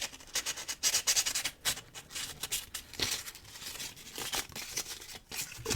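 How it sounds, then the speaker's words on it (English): Steady scratchy rubbing of 1000 grit sandpaper polishing the tips of lock levers, a close, continuous abrasive rasp with short strokes and no talking. "A bit of 1000 grit sandpaper."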